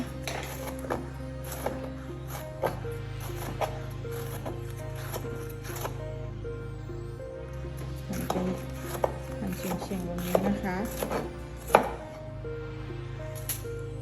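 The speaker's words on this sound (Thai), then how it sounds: "เราก็จะมาหั่นพริกกันนะคะ" A knife slices chili peppers on a cutting board, sharp taps at an uneven pace, close and clear over a low background hum.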